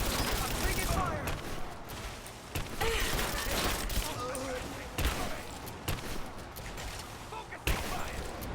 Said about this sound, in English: Give me covering fire! We got a man down! I'm taking fire!